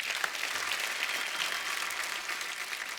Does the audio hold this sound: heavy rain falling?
no